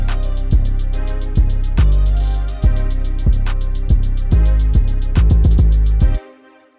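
Hip hop beat built in Beatmaker 3, with booming 808 bass hits, crisp rapid hi-hats and a melodic loop playing loud and steady before cutting off abruptly near the end.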